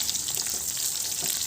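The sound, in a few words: stirring and frying onions and green chillies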